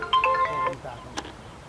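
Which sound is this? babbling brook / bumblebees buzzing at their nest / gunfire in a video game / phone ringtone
phone ringtone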